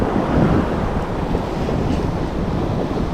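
Ocean waves wash against a rocky shore while fishing, a steady close surf roar mixed with wind buffeting the microphone, no talk.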